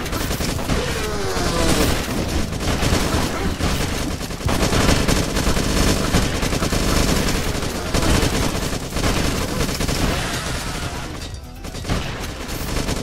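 Sustained machine gun fire in the shooter video game Beyond Sunset, dense and loud rapid bursts that run almost nonstop, thick with booming impacts.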